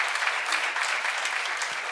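A church seminar congregation claps together, a steady, even wash of applause from a sizable crowd, continuous and fairly loud throughout with no speech over it.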